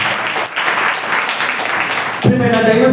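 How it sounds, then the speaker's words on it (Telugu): A church congregation claps loudly and densely during Sunday worship at Alpha Omega Church, Kummarigudem, a steady roar of hands that runs nearly three seconds before a voice breaks in over it. "గట్టిగా చప్పట్లు కొడతామండి."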